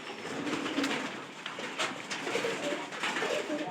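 Pigeons coo softly and repeatedly against a steady wash of background noise, with a few brighter calls standing out over the continuous low murmur of the flock.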